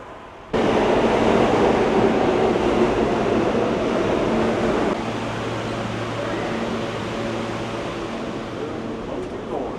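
A New York City L subway train roars in suddenly and rumbles steadily with a low droning hum, loud and close, easing slightly partway through.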